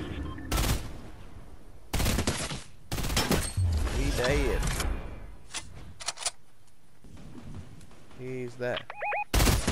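Rapid bursts of automatic gunfire in a Fortnite match crack out in loud, repeated volleys. The shots come close together and sharp, and a player speaks briefly between them.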